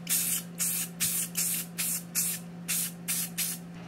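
Spray paint going onto a Kubota mower deck to cover fresh welds, a first coat: about eight short bursts of hissing spray with brief gaps between them, close and steady in rhythm over a faint constant hum.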